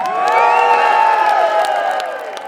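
A large crowd at an outdoor Believe in Scotland independence rally cheers and whoops loudly and continuously, a dense wash of voices that fades slightly toward the end.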